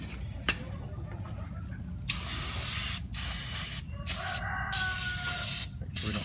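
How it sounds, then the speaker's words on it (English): Brake cleaner sprayed from an aerosol can onto a Kawasaki Mule 2510 engine, close loud hissing bursts of a second or two separated by short gaps, over a low steady rumble. "Spray it with some brake cleaner first."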